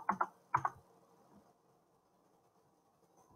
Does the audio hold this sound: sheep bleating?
no